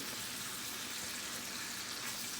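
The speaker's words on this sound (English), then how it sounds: "And we're going to put the garlic. Stir it around a little bit. Let that cook some." Garlic sizzles in a pan alongside lamb loin chops, a steady, close, hissing fry that stays even and continuous with no talking.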